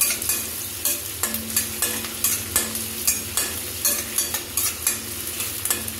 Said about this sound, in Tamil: நம்ம வச்சுருந்த இந்த பெரிய வெங்காயம் கருவேப்பிலை ரெண்டையும் நான் அதில் போடுறேன். இந்த வெங்காயம் நல்லா வதங்கணும்.